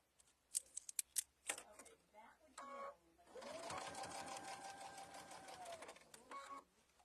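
A sewing machine runs in a steady, fast-stitching burst for about three seconds while sewing a mug rug, preceded by a few sharp clicks and handling sounds, close and fairly quiet.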